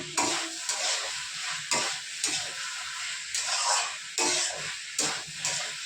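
Fried potatoes and cauliflower tossed into cooked-down spices and oil in a pan, with repeated stirring scrapes in a steady rhythm over a continuous loud sizzle.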